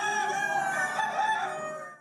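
Chickens and a rooster at feeding time on a farm in upstate New York, a rooster's crow ringing out clearly over soft clucking, close and moderately loud, fading at the end.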